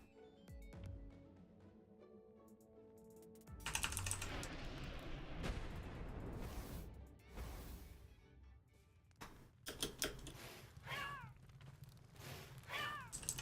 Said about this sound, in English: I hear meowing